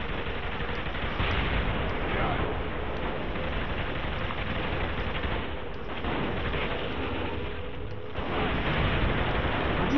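Gunfire in the video game Saints Row: The Third, including shotgun blasts, forms a dense, continuous barrage of rapid shots with explosive rumble, loud throughout with brief lulls.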